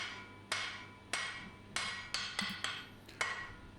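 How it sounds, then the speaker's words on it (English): A hammer strikes hot steel while forging the tang of a seax blade on an anvil, sharp ringing blows landing roughly every half second, seven in all, close and clear with no voices. "now we can go ahead and smash in our tang, again providing a distal taper and a vertical taper."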